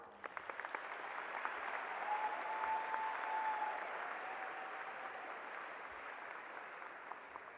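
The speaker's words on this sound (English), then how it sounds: "Let's give them a round of applause" Steady applause from the crowd at a high school graduation ceremony in a large venue, a soft, diffuse wash of many hands clapping at a distance, with a faint tone running through it.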